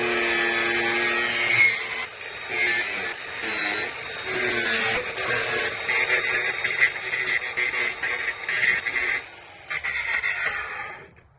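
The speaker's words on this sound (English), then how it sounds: "Turned out decently for using an angle grinder with a cutoff disc as a sanding means." An angle grinder fitted with a cutoff disc grinds on a Jetta car part, a loud, continuous, close harsh whine that varies in pitch under load, then cuts off abruptly near the end.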